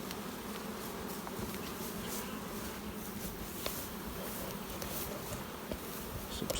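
Dense, steady buzzing of many honey bees bearding outside a hive, a continuous droning hum with occasional louder passes.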